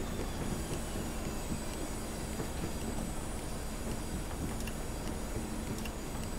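Class 37 diesel locomotive running on the West Highland Line in a train simulator game, a steady rumbling engine and wheel drone with faint rhythmic clicks, continuous and fairly loud throughout.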